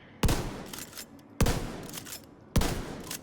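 Three evenly spaced shotgun blasts from The Division 2, each a sharp, loud boom with a short, fading rumble tail, about a second apart, with no talking.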